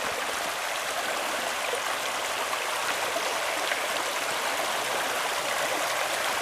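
The Léguer river flows on steadily, a constant broad rush of water with no pauses. It sounds close and fairly soft, and there are no voices.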